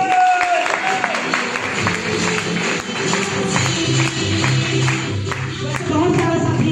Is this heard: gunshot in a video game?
no